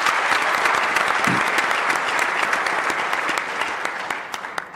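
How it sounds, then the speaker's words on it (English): Applause fills the room at a high-level panel discussion on tertiary education, dense, loud and continuous, easing slightly toward the end. "Round of applause, please."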